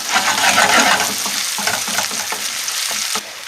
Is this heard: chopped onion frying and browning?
yes